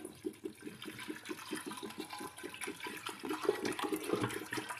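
Water poured from a bowl into a pressure cooker holding lentils for sambar, a close, steady gushing splash with a quick rhythmic gurgle throughout.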